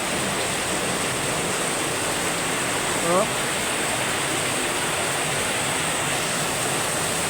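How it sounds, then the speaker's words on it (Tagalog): Steady heavy rain pours down in a dense, continuous hiss, with a single voice briefly exclaiming partway through. "Lalo lumakas yung buhos ng ulan."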